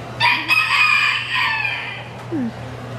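A rooster crows loudly and close by, one long drawn-out call rising and holding before trailing off, with a faint cluck near the end.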